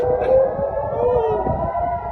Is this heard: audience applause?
no